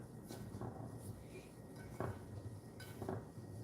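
Bath bomb ingredients being mixed in a bowl, giving soft, intermittent scraping and clinking of a utensil against the bowl, faint and close, with a few sharper knocks.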